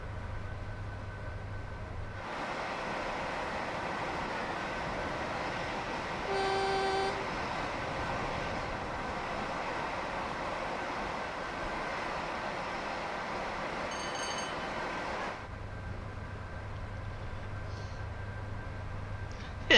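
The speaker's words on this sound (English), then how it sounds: "Oh, freight train." Freight train rolling past in the Just Trains simulator on the West Coast Main Line between Crewe and Preston, a loud steady rumble for about thirteen seconds with two brief horn-like tones, fading back to quieter cab ambience.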